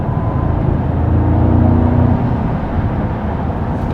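A 2025 Mercedes-AMG GT 63 S E-Performance plug-in hybrid with 816 horsepower accelerates, heard from inside the cabin as a loud, steady, low engine and road drone with a slight swell in the middle and no talking.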